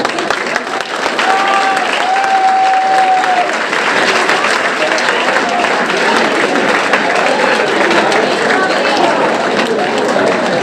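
A large audience applauds at a Hindi poetry gathering, a kavi sammelan, with dense continuous clapping holding steady for several seconds while a voice speaks briefly over it.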